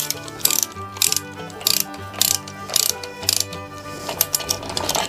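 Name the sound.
ratchet tightening bolts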